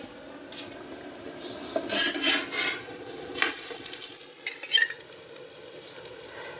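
An onion paratha frying in oil on a pan, giving a soft, quiet sizzle with scraping and rubbing sounds from the flat pan and turning, close by and without talk.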